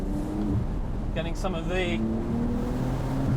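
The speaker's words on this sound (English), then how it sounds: "increased exhaust sound. You can hear the electronic wastegates opening and closing." A Porsche 992 Targa 4S in sport mode, with electronic exhaust wastegates, drones steadily throughout from inside the moving car, while someone talks briefly over the engine.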